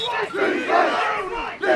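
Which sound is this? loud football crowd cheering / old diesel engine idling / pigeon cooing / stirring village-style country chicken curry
loud football crowd cheering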